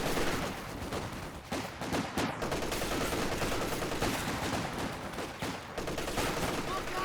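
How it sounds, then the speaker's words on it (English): Continuous machine gun fire and scattered gunshots in a Company of Heroes 2 1v1 match, a dense busy battle din running steadily throughout with no pauses. "There's an incendiary grenade onto the machine gun."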